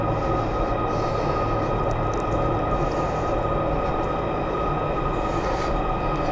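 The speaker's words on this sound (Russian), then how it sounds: "Ну, собственно, вон поезд приехал." Train pulling into a metro station in Belgrade, Serbia: a steady, loud rumbling roar of the arriving cars with faint squealing and rattling throughout, no talking.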